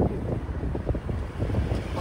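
Gusty wind buffets the microphone in a continuous low rumble with no voices.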